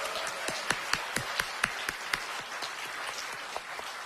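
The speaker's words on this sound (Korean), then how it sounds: "큰 박수 다시 한번 부탁드립니다" Audience applause at a People Power Party presidential campaign committee's disbanding ceremony: a crowd's scattered, moderately loud claps with sharper peaks, sustained over a few seconds without voices.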